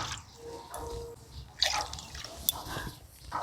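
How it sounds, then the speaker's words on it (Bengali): Water is poured into a wok in a home kitchen, a soft, quiet trickle and a few splashy drips at close range with no talking. "কড়াইতে জল দিয়ে দিচ্ছি।"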